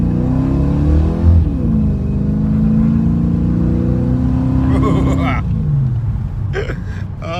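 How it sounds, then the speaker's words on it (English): Holden VR Statesman engine heard from inside the car through its exhaust, a loud, steady droning rumble with pitch rising and falling as it revs and accelerates, plus brief clicking and rattling bursts. "We'll give it some gas now."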